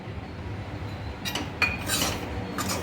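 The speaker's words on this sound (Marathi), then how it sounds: "रवा भाजतानाच त्यामध्ये पीठ पण घालायचं आहे" Semolina and wheat flour roasting in a kadhai: a spoon scrapes and clinks against the metal pan in a few short, close bursts over a quiet background, with no talking.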